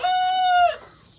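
A young rooster crows once, a single sustained, slightly strained call lasting well under a second before breaking off, fairly close and alone.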